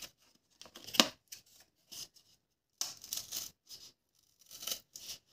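Scissors snip through paper cut into drawn flower and fish shapes for a collagraph print, giving short crisp cuts in irregular bursts with gaps between, close and fairly quiet.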